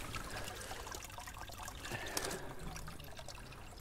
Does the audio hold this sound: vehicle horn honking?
no